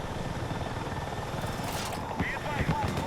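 Helicopter rotor noise from Battlefield 6 hums and whirs as a steady, continuous drone, with game effects and some speech over it.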